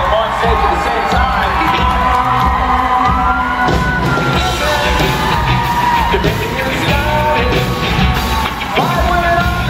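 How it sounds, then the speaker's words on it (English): A live audience at a women's stage event cheers and applauds loudly, with yelling, whoops and crowd noise piling up at close range while music plays underneath. "please give a very warm round of applause for these lovely, lovely ladies"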